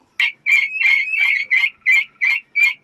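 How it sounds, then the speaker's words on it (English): A fowl calls in a quick run of eight short, loud, evenly spaced squawks, close by and alone with no other sound. "we got chickens over there"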